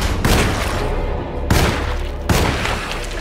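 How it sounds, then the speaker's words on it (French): Gunfire in the horror video game Alone in the Dark, three loud, booming shots spaced roughly a second apart, close and heavy, each with a sustained rumbling tail. "C'est bizarre, le premier coup de feu, il a toujours un problème de son."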